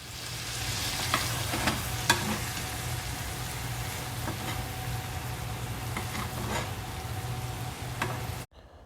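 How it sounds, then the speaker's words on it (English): A steak sizzles steadily in a pan as compound butter is spooned over it. A constant frying hiss runs under scattered clinks of the spoon, then cuts off abruptly at the end. "Now I'm taking the butter from the bottom and I'm basting the steak"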